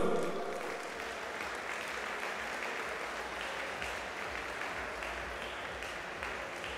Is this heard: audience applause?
yes